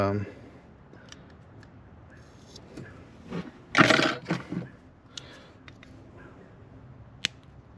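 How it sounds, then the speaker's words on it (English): Cutters snip through a wire during a DSX flex fuel kit install on an L83 Silverado, a short, sharp crunching burst in the middle of a quiet garage, with a few faint clicks and handling sounds around it. "we're gonna have to cut this wire"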